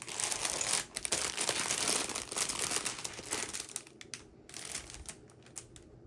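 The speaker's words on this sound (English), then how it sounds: "Sorry for the rustling." Crinkly plastic packaging rustles and crackles close up while a floss kit from a large painting set is unboxed, in irregular bursts with brief pauses and no talking.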